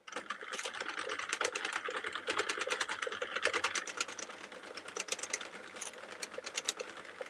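A hand-cranked knitting machine rattles out a rapid, continuous run of close clicks and ticks, loud and steady with brief lulls, the mechanism clattering nearby with no talking.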